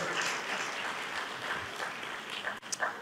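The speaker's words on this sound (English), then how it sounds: "So please join me in applauding David" Applause from an audience at a policy talk on technology, politics and business, a steady dense wash of clapping throughout that thins and breaks up near the end.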